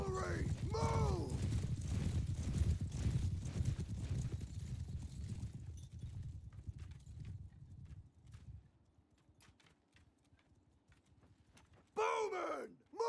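Cavalry horses galloping in a medieval strategy battle game, dense thundering hoofbeats with whinnies over a loud battle din for about eight seconds, then fading to quiet before another neigh bursts in near the end.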